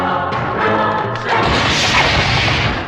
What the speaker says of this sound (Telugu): శివా, రైలు పట్టాలకి బాంబు పెట్టారా?